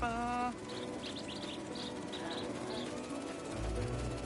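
Short bird chirps from the Spider-Man 2 video game, a cluster of quick high tweets repeating several times over dense game noise and music, moderately loud in the mix.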